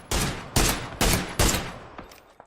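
A semi-automatic rifle in a PC shooter, more powerful than the SKS, fires four loud, sharp shots about half a second apart. Each crack trails off into a short echo, and a few fainter clicks follow.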